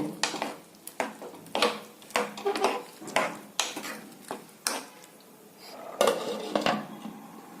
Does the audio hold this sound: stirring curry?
yes